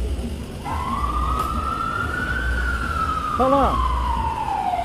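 An ambulance siren sounds as the vehicle enters a football pitch during a match, one long rising-then-falling wail over steady crowd noise, with a brief spoken voice near the end.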